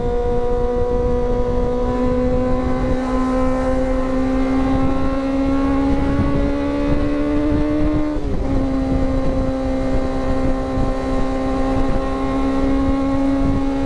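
Kawasaki ZX25R motorcycle engine pulling steadily under acceleration while riding, a loud, continuous high-pitched whine rising gradually in pitch, briefly dipping near the end as if shifting gear, with no talk over it.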